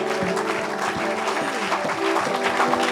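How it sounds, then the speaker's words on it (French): A church congregation at a deliverance service claps and applauds together, a dense, continuous burst of hand claps with a murmur of voices underneath. "Acclamons pour Jésus."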